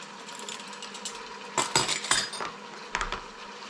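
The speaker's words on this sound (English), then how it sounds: "I'm adding about 1 kg worth of beef cut up." Roughly 1 kg of cut-up beef going into a Midea Instachef pot for beef stew, heard as a few clattering, sizzling bursts of meat and utensil hitting the pot over a steady low background.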